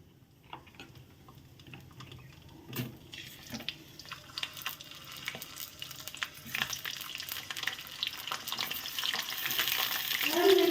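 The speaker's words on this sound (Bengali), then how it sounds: "তো এখন আমি এই পটলগুলো দিয়ে দিব তেলের মধ্যে।" Pointed gourds (potol) slit and dropped into hot oil, building into a dense crackling sizzle that grows louder over time, close by, with light clicks of handling and no talking.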